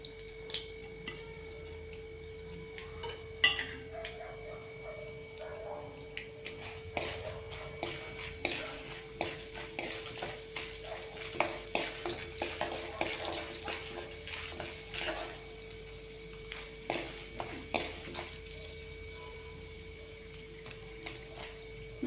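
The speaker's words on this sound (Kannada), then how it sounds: "ಇನ್ನು ಸ್ವಲ್ಪ ಫ್ರೈ ಆಗಬೇಕು" Chana dal frying in a pan for karamani palya, with continuous sizzling and frequent scraping taps of a spoon as it is stirred, close and steady throughout.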